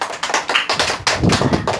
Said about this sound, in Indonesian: Beri tepuk tangan untuk Monica